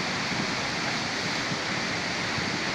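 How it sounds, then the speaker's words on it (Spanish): A flooded river overflows its banks onto a road, giving a steady, dense roar of rushing water with no pauses. "Se está desbordando el río, está saliendo el cauce a la carretera."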